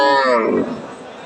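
A single loud, close moo from a crossbred cow on a farm in Cumilla, drawn out and falling in pitch before trailing off.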